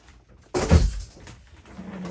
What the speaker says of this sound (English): Shut the door real quick.